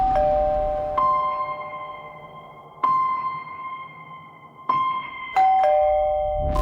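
A house doorbell rings several times in a row, each loud two-tone chime sounding clear and close and ringing out briefly before the next press, with no voices over it.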